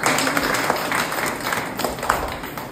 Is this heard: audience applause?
yes